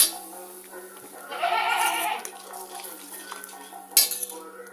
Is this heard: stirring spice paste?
yes